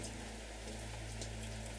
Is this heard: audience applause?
no